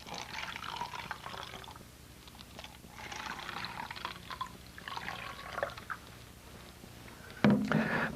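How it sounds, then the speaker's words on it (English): A drink is poured into glasses in a saloon, with a fizzy liquid stream rising and falling in bursts and a short clink near the end. No one speaks. "The barkeeper poured everyone around a sarsaparilla"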